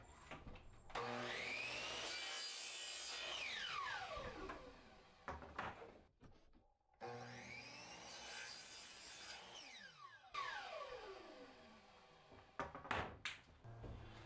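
Pieces of PVC pipe cut to length for a pontoon boat cover support, with two long, steady sawing passes that rasp loudly up close, separated by a brief pause.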